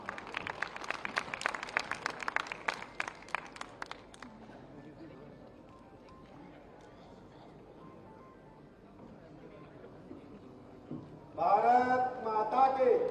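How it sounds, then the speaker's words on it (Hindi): Audience applause at a memorial ceremony for former Prime Minister Atal Bihari Vajpayee: a dense burst of clapping for about four seconds that fades into murmuring crowd noise, followed by loud amplified speech. "आप सबकी जोरदार तालियों के साथ"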